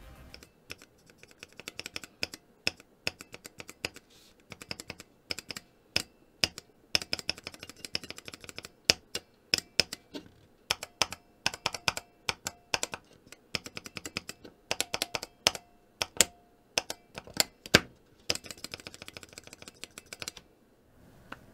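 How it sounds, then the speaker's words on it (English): Stock Cream mechanical switches mounted in a stainless steel switch tester and fitted with a GMK keycap, struck in quick irregular bursts of sharp, close clicks and clacks with short pauses between runs. "For some typing samples, I have three. First, stock switches on my stainless steel switch tester with a GMK keycap."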